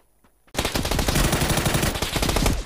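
Rapid gunfire from a shotgun in a video game, a dense burst of repeated blasts starting abruptly after a quiet moment and continuing loudly for about two seconds, then cutting off.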